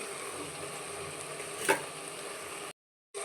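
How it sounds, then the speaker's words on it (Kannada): Soaked rice is stirred into a hot tempering in a pan for tomato bath, a soft continuous sizzle with light scraping and one brief clink, then a short silence before the sizzle returns. "ಸೇರಿಸ್ಕೊಂಡು ಈ ರೀತಿ ಚೆನ್ನಾಗಿ ಮಿಕ್ಸ್ ಮಾಡ್ಕೊಳ್ಳಿ"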